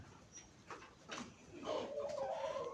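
Chickens and a rooster in a new backyard coop, clucking and calling in short bursts at moderate distance, with a louder rising call toward the end; someone speaks nearby.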